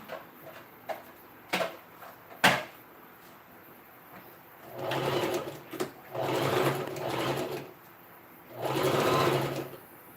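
A sewing machine stitches a seam on a princess dart dress at a half-inch allowance: a few light clicks and taps, then three steady whirring runs of stitching close by, separated by brief pauses.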